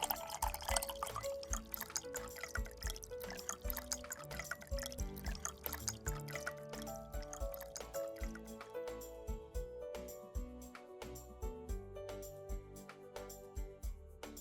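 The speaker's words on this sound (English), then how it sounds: "Pour the badam milkshake over it." Chilled badam almond milkshake is poured over ice in a glass, a soft, close trickle and gurgle of liquid with small drips and clinks, fairly quiet and continuous.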